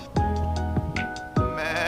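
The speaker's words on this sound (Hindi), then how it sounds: "बा से बकरी" A goat bleats in a children's Hindi alphabet song, with a few quick, wavering cries close up over a sustained musical backdrop.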